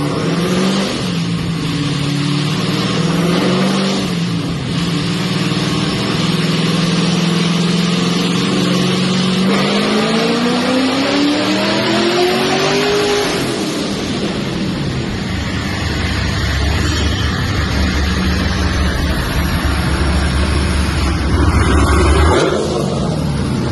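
A supercharged LS3 V8 in a fifth-generation Camaro roars through a wheel dyno pull on 93-octane fuel, its loud, steady engine note climbing in pitch before settling near the end.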